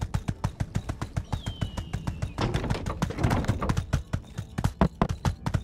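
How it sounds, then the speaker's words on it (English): Horse hooves clip-clop in a steady, close rhythm of sharp strikes, with a short busier patch in the middle where the beats blur together. "Come on, horse."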